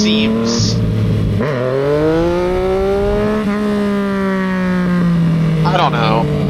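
A Yamaha XSR900 motorcycle engine revs during wheelie practice, a close, loud, steady drone whose pitch climbs and then slowly falls, with brief sharper blips near the start and end.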